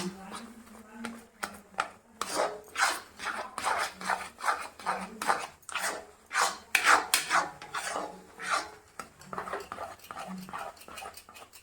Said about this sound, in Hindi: गैस का फ्लेम मीडियम में रखेंगे और लगातार चलाते हुए इसको गाढ़ा करेंगे